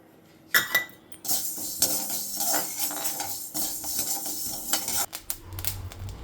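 Fenugreek seeds dry-roasting in a pan for sambar powder, with busy scraping and clinking of a spoon against metal and a few small pops, fairly close and without talk.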